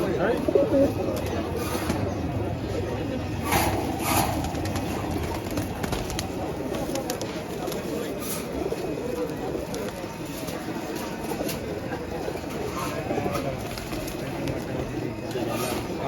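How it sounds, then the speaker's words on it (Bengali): Low pigeon cooing carries through a constant busy din at the crowded Katakhali pigeon market in Rajshahi, with occasional knocks and scattered background voices. "রাকিব ভাইয়ের কাছে টেডি গোল্ডেন কালদম কামাগার সব রকম কবুতর আছে"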